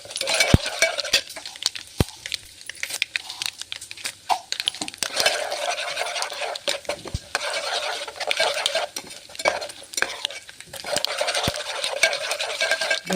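Chana dal and urad dal dry-roasting in a pan for puliyogare, with steady stirring scrapes, light crackles and occasional utensil clinks against the pan, close and continuous without any talk.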